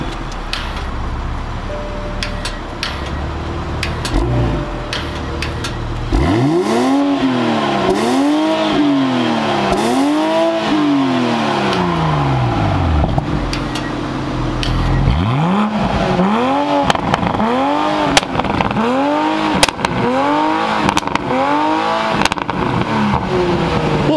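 Stock-exhaust Dodge Hellcat with its catalytic converters removed revs hard in a series of loud, close blips, each rising and falling sharply, with a short pause midway before another run of revs.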